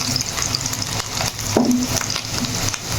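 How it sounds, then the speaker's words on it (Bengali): Sliced potatoes frying in hot oil in a home kitchen until golden brown, a steady crackling sizzle with occasional stirring scrapes and clinks, close and moderately loud, with no talking. "আলুগুলো গোল্ডেন ব্রাউন হওয়া পর্যন্ত আমি ভাজতে থাকবো।"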